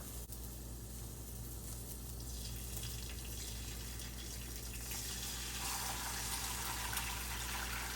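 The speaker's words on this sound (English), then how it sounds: "I'm actually gonna put a little bit more oil in here in the pan for the egg" Cooking oil poured into a frying pan for an egg, a steady quiet trickle over a constant background hiss that grows slightly louder toward the end.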